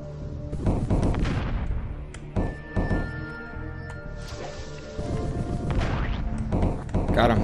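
Heavy booming gunshots in a shooter video game, several loud impacts spaced irregularly with game effects between them, close, under a voice talking.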